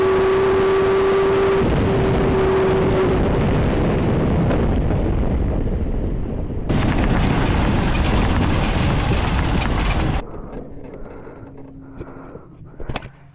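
A race car at Cadwell Park circuit roars loudly at close range with heavy wind buffeting, then the engine sound drops away abruptly into a quieter, scraping aftermath with a few faint knocks near the end.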